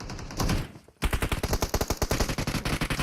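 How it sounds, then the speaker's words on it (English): PUBG Mobile gunfire: after a brief muffled burst and a short pause, a rapid, loud automatic volley of close shots rattles on without a break. "The jump shots are going on, and Romeo gets it."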